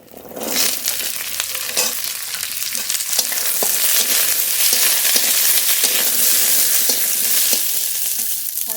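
Garlic and flat beans frying in hot oil make a loud, steady, close sizzle that builds after the first second, broken by a few sharp clicks of stirring.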